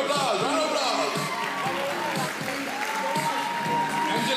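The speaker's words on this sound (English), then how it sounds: "Round of applause." A crowd at a senior fashion show applauds, dense continuous clapping mixed with cheers and whoops, with voices calling out throughout.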